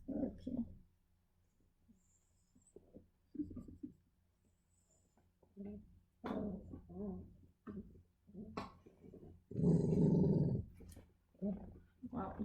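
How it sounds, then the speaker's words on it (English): Young Lagotto puppies, six to eight weeks old, growl in short rough bursts close by, with one longer louder growl and scattered whimpery sounds, mixed with a person talking quietly in between. "let's talk about growling."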